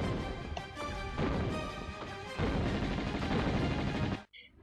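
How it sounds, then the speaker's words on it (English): Natla firing bombs in the Great Pyramid level of Tomb Raider: a dense, continuous barrage of booming blasts and crashing impacts with surges in intensity, loud and close, cutting off abruptly at the end. "She can fire three bombs at you at once"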